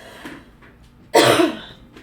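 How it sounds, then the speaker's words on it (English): A single sharp cough rings out close by, with soft breathing and faint throat sounds around it. "Remnants of this cough need to go away."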